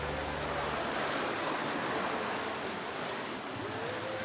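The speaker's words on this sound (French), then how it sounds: "Le vent, les vagues" Ocean waves rush and hiss continuously with steady wind, a dense, loud wash of surf noise and no talking.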